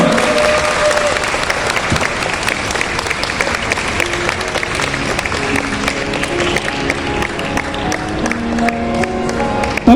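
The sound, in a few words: audience applause for Bhante Dhira Punyung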